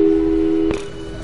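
A steady telephone busy-signal tone from the video game Portal 2 hums loudly, then cuts off abruptly partway through, leaving a low background hiss.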